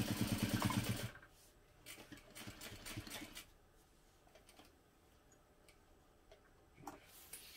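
A sewing machine stitches around the boxed panel of a crossbody bag with a short back stitch at the start, a loud burst of stitching followed by quieter intermittent ticking and clicks.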